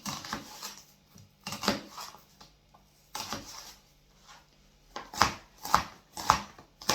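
A knife dices an onion in bursts on a cutting board, quick clusters of sharp taps separated by short pauses, close and fairly loud.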